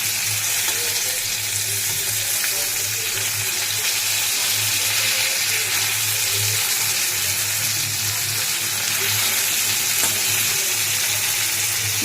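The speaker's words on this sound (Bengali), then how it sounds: "মাছটা নুন হলুদ মাখিয়ে ভাজছি" Desi koi fish coated in salt and turmeric sizzles steadily in hot oil, a loud, constant crackling fry close by with no talk over it.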